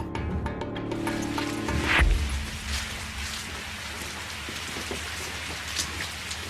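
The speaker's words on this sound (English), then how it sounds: "Then it started to rain." Cold rain falls steadily as a dense, even hiss on surfaces, following a brief low rumble at the start, with no voices.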